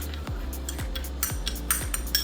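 A spoon clinks against a bowl while an olive oil skincare mixture is stirred, giving light, bright taps at a steady pace of about two per second, close and fairly clear over a soft background hum.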